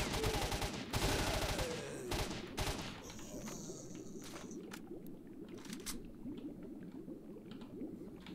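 Gunfire in the video game S.T.A.L.K.E.R.: Shadow of Chernobyl, a dense burst of rapid shots up front that thins into scattered, quieter cracks over a lingering ambient bed.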